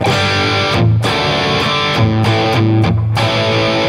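Heavily distorted electric guitar chords played loud through an overdriven amp at about 3/4 gain with noise gate off, with brief choppy pauses between strums.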